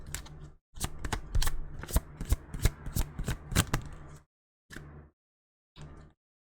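Cards from a deck during a tarot-style reading: a run of quick riffling, flicking shuffles with crisp papery snaps, then two short separate card slides, close and clear with no talk.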